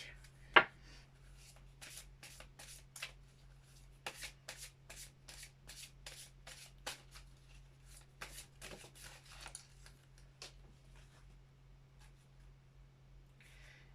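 A deck of Gaia oracle cards being shuffled by hand, a quiet close series of rapid riffling bursts and soft rubbing, with a faint steady hum underneath and no speech.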